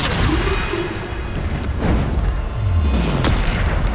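Repeated Bombarda blast spells in Hogwarts Legacy go off as deep booming thuds and explosions, one after another, over a steady roar of combat.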